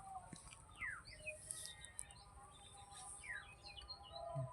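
Several birds chirp and tweet with quick, high calls scattered across the scene, moderately distant over a quiet outdoor background by a mango orchard and maize field.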